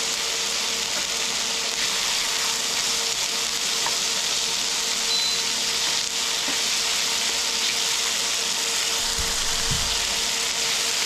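Frozen green peas frying in a pan, a steady broadband sizzle that holds evenly throughout at moderate loudness, with a couple of faint low knocks near the end.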